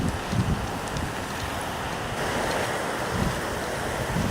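Gusty spring wind blows outdoors along a riverside path lined with cherry blossoms, a steady, close, rushing roar buffeting the microphone with no voices.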